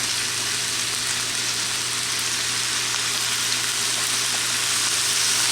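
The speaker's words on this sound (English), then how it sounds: "Now, as this is stir-frying in here, we're going to start adding our soy sauce." Fried rice stir-frying in a pan, a steady loud sizzle and frying hiss that holds unbroken throughout with no talking.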